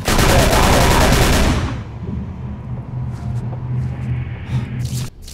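Rapid, loud gunfire roars in a dense burst in the video game Call of Cthulhu, then cuts off abruptly into a low rumble with faint clatter and a brief thump near the end.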